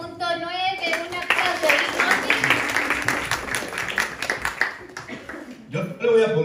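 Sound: audience applause at a poetry slam

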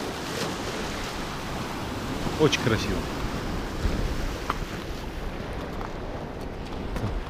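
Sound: stormy Barents Sea surf at Teriberka

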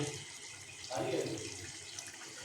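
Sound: water being poured into mutton ghugni gravy

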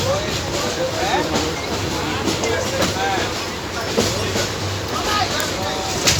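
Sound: train running on rails

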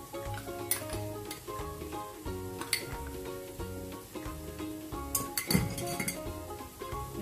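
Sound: stirring spices into dough mixture

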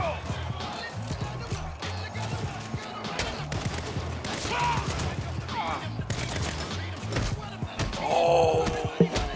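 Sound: gunfire in video game Saints Row

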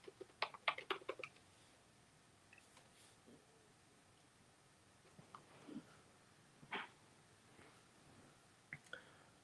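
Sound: typing on a computer keyboard

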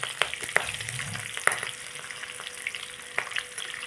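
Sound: lightly frying cauliflower, potato and peas

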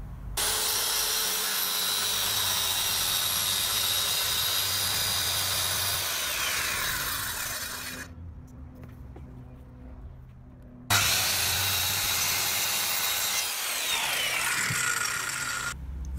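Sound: circular saw cutting board in a Mercedes Sprinter van

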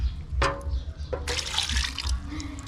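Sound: pouring water into food while cooking

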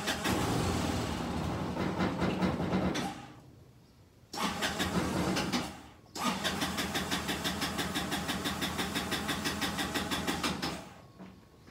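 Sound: Kymco scooter engine starting and running rough

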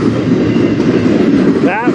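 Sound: mail train passing at night

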